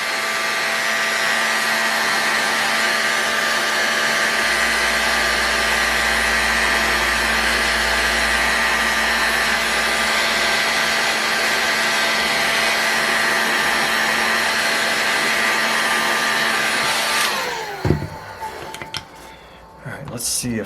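A heat gun blows steadily and loudly onto the crankcase of an Irvine 40 model engine to free the crankshaft, its constant broadband roar running for about seventeen seconds before cutting off abruptly, followed by brief clattering and handling noises.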